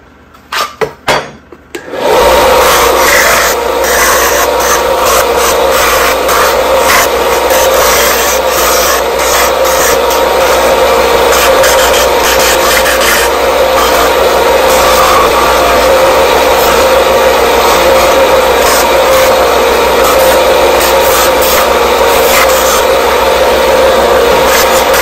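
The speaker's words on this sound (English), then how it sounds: "stick it on the grinder or the sander, try to get a more refined shape on it." Power grinder or sander rasping steadily against the edge of a Kydex holster, a loud continuous abrasive whir that starts after a brief moment and runs unbroken to the end, no talking.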